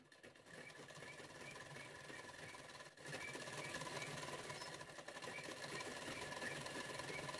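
A sewing machine stitches along a blouse neckline, its needle chattering in a fast, steady mechanical rhythm that pauses briefly midway and then resumes, faint and close with no talking.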